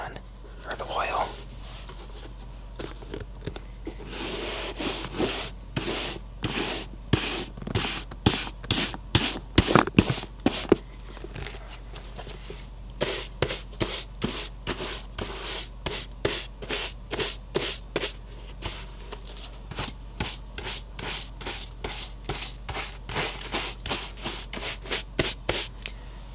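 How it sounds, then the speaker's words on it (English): A brush scrubs dirt off a pair of worn boots in quick rhythmic strokes, close and crisp, repeating steadily in bursts with occasional soft speech. "I want to brush off the boots just to get any dirt off of there"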